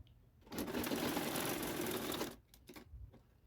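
A sewing machine stitching through folded fabric in one continuous two-second burst, close and clear, followed by a few short stitching taps.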